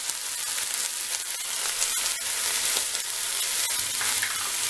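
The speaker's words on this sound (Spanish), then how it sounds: "Ya que se calentó el aceite, agrego la carne. La cebolla y los 2 dientes de ajo picados." Ground beef, chopped onion and two minced garlic cloves sizzle steadily in hot oil, a loud, close, continuous frying hiss with no talking.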